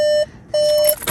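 A new company car's door-open warning chime gives loud, clear electronic beeps close by, a sustained tone that breaks off briefly and then resumes, with a faint clatter near the end.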